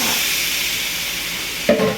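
Steady close sizzling hiss of shrimp frying in butter in a skillet, with a brief clatter near the end.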